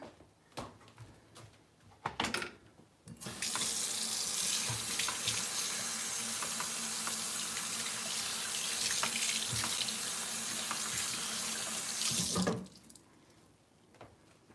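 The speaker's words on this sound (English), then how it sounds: "wash your hands again." Hands washed under a running kitchen tap while cooking, with a few clicks and knocks, then a steady loud gush of water for about nine seconds before it shuts off.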